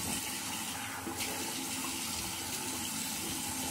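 Hot water runs steadily from a tap into a sink, a continuous close rushing splash that holds at an even level throughout with no voices over it.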